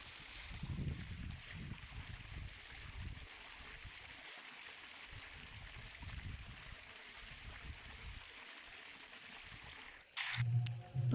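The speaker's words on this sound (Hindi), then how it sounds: "पानी बह रहा है" Irrigation water flowing steadily through a wheat field, a continuous soft wash with low gurgles and splashes, heard close and alone, with a sharp burst of louder splashing near the end.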